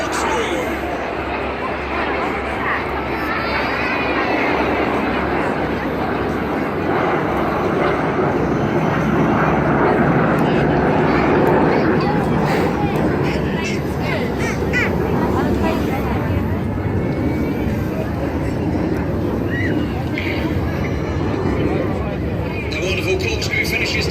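Red Arrows display jets fly a corkscrew manoeuvre, producing a loud, sustained broadband jet roar that swells and holds for the whole stretch, with voices and bird calls in the background.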